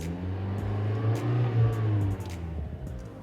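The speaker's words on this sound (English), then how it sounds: "So if I were to rev this vehicle" A Honda Accord Sport's engine revs in park, a loud close rising and falling surge that settles back toward idle, with no talk.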